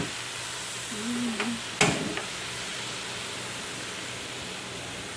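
Pan stir-frying ingredients for pickled mustard greens soup with pork bones, pork belly and shiitake mushrooms: a steady soft sizzle throughout, with a brief tonal hum and a sharp clatter of a utensil early on.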